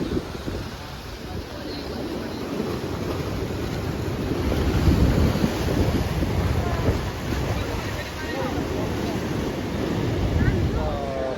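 Waves and moving water on the Gomti river at Dwarka, a steady broadband wash of surf and wind across the whole stretch, swelling slightly midway, with no clear voices.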